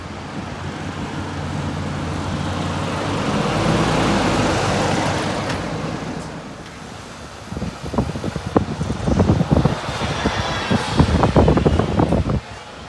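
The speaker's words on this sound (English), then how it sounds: "here is the Volvo B7TL leaving Bournemouth" A Volvo B7TL open-top bus pulls away from a stop in Bournemouth: a steady diesel engine rumble with wind buffeting the microphone, then louder, choppier engine and road noise as the bus gets moving.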